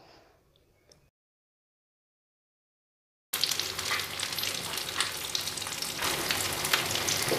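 Stuffed capsicum fries slowly in a pan; after a faint start and a few seconds of silence, a steady, close sizzle rises and continues with no voices.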